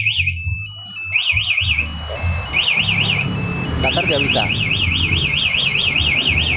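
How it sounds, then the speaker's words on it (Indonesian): A loud, close motorcycle alarm siren on a Yamaha NMAX wails in a fast warbling pattern, stopping and restarting, while someone talks beneath it and the motorcycle idles. "Lalu ketika ada pembobolan dari kontak, maka ini alarm akan berbunyi keras."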